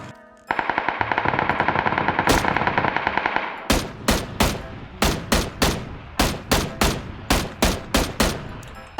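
AK rifle fire in PUBG: a loud, rapid automatic burst rattles for about three seconds, then gives way to a rhythmic series of sharp, evenly spaced single shots, with no talking.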